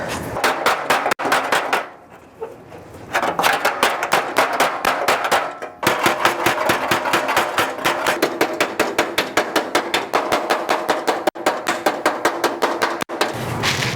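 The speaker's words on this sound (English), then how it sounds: "I'm going to use this small hammer with this wide head" Rapid, steady metallic tapping of a small wide-headed hammer on an MGB front fender panel, loud and close, continuing in quick rhythmic bursts with a short pause early on.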